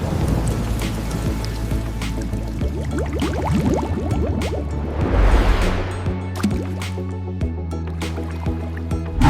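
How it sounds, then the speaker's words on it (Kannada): Water surges in waves inside the Morbi stepwell, giving a continuous rushing and splashing wash with one louder swell midway. No voices are heard. "ಆ ಚಲನೆಯಿಂದನೇ ನೀರು ಈ ರೀತಿ ಅಲೆ ಹೊಡೆಯೋದಕ್ಕೆ ಸಾಧ್ಯ ಆಗ್ತಾ ಇದೆ"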